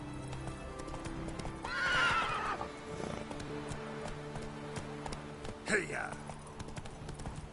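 Roach, the horse in The Witcher 3, trots with steady clip-clopping hooves and lets out two whinnies, the second louder. A rider calls out over the hoofbeats.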